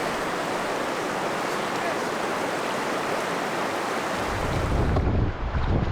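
Rapids rush along a remote Arctic watershed river in a loud, steady wash of water noise that swells even louder toward the end.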